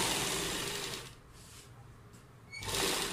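A sewing machine stitches down the centre of a double piping neckline, whirring steadily in two short runs with a brief pause between them.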